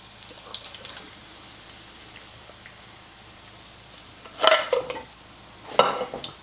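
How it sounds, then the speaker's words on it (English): A can of Italian-style petite diced tomatoes goes into a cooking pot with two short wet splashes and slops near the end, after a few seconds of quiet kitchen background. "First thing I'm going to add is 1 can of petite diced tomatoes"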